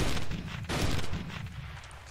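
Cannon fire in Teleglitch, a burst of dense crackling blasts, the loudest hitting midway through, then tailing off into a rumbling decay.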